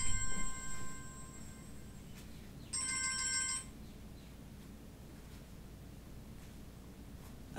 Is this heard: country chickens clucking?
no